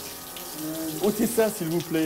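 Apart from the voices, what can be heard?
shower water running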